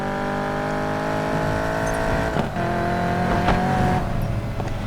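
Stock V8 engine of a yellow Chevrolet Camaro Z28 in the racing game Need for Speed Payback, droning steadily and loudly throughout with a rising, revving tone and faint tire noise, no talk over it.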